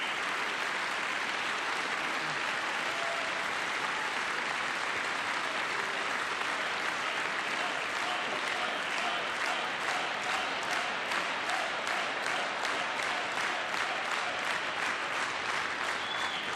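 Sustained applause from a packed chamber during a presidential State of the Union address, a dense, unbroken roar of many hands that later falls into a rhythmic unison clap.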